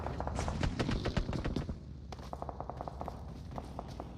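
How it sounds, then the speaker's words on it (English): Distant gunshots in PUBG Mobile during a tournament match: rapid bursts of sharp cracks, heavier in the first half, then sparser repeated pops, fairly faint. "off in the distance, you can hear some shots"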